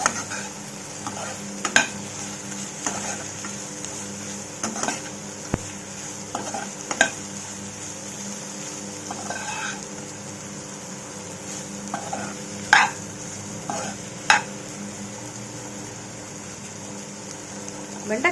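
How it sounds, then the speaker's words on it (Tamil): Sliced okra being stir-fried with salt in a pan for a spicy bhindi fry, a constant soft sizzle with occasional sharp clinks of a spatula against the pan. "உப்பு சேர்த்துட்டு நல்லா வதக்குங்க."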